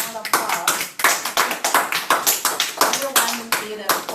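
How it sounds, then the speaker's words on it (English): A small audience at a Gavel Club meeting claps in quick, distinct bursts, each hand strike clear and close, keeping an uneven rhythm throughout with some talking among the claps. "give yourself another round of applause"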